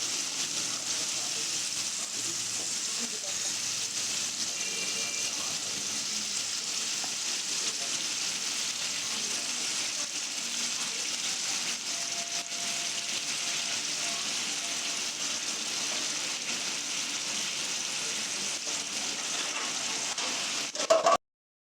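Moth bean (matki) curry simmering in a pan gives a steady, even sizzle and bubbling that holds at one level throughout, close up and alone, with no voices.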